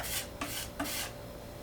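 Crayon rubbed into a wooden coffee table, three rhythmic rasping strokes close up, scratchy and fairly quiet, with no talking.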